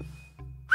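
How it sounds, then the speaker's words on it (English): A short whistle in a video game, set in a graveyard: a thin steady tone fades out, then a brief rising whistle sounds loud and close at the end, with no talking. "I'll whistle. Maybe that'll do something."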